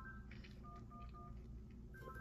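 Cell phone dialing tones from the Henry Stickmin game Escaping the Prison: a quick series of distinct electronic key beeps, steady and clear over a low hum.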